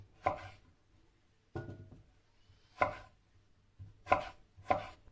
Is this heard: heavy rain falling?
no